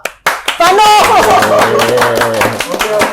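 A campus orientation audience claps for two guest speakers, the clapping loud and sustained under cheering voices and talk that swell over it.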